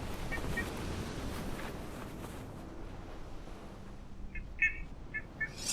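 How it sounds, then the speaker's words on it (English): In a horror video game, a bird chirps a few times near the end, short, clear, high notes following a stretch of windy, rushing ambience. "I want to kill the bird."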